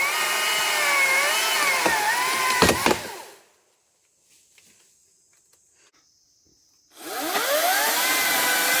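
A Hart 14-inch battery chainsaw cuts through a thick tree of about 17 to 18 inches, its electric motor whining loudly and steadily, then stopping into near silence before spinning up again near the end.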